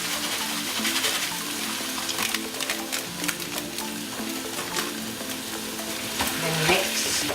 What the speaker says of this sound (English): And I'll be adding in the squid. And the garlic.